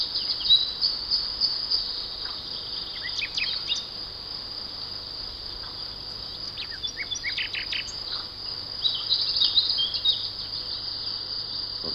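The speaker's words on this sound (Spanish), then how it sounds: "La lista de aves que se pueden escuchar durante cualquier paseo tranquilo por uno de estos bosques es muy larga." Spring forest chorus of insects and crickets holding a steady high trill throughout, with songbirds such as chaffinches, warblers and nuthatches chirping and whistling over it at moderate distance, with no talk.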